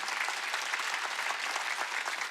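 A church congregation claps steadily and densely throughout a worship service, a sustained wash of applause with no pauses.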